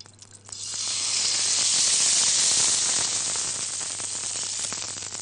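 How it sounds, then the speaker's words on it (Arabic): Cooking oil heating in a tray on the stove before chicken goes in, a loud sustained hiss and crackling sizzle that rises quickly within the first second and continues steadily, with no talking. "سامعين الصينيه سخنه ازاي؟"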